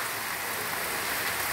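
Rain pours down on an outdoor stage as a brief, even hiss of falling water with no voices.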